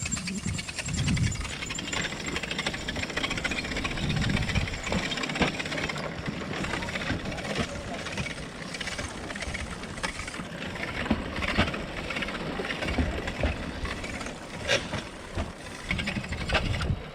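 Motorized rail bikes run along the Skunk Train line in Fort Bragg, making a continuous engine drone mixed with clattering, knocking mechanical rattles and wheel noise, steady and close for the whole stretch.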